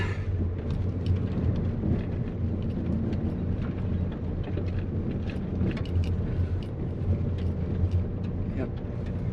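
A vehicle drives up a steep dirt slope near a camping spot, its engine a loud continuous low rumble with wheels spinning and slipping under the strain.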